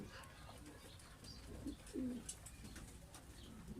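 A pigeon coos softly in a couple of short, low bursts near the middle, faint against quiet outdoor background with light chirps of other birds.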